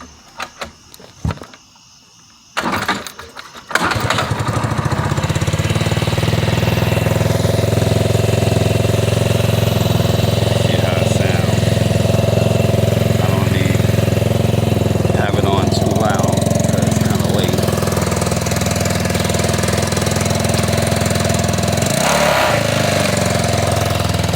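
A Dongfang 200cc motorcycle engine kickstarts after a few sputters, then settles into a loud, steady close-up idle with slight throttle rises as the carburetor is opened up.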